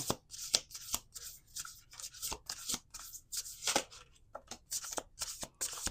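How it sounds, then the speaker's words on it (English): Close-up card shuffling, a continuous series of quick riffles and soft flicks at an irregular, busy rhythm. "One more shuffle."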